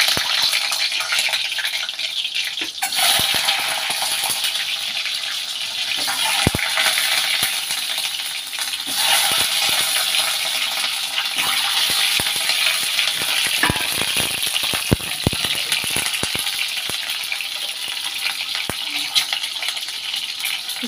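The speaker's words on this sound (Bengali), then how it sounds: "প্রথমে ডিমটা ভেজে নেব" Eggs frying in oil in a pan for a Bengali-style egg curry, a loud, steady crackling sizzle with scattered pops and spatter ticks lasting throughout, close up and without talk.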